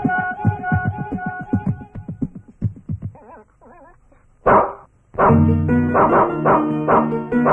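A large dog barking in a film scene, a quick run of sharp barks followed by yelps and whimpers, then a burst of music swelling in near the end.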